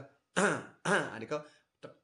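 Two short forceful coughs followed by a shorter one, close and dry, with brief pauses between them.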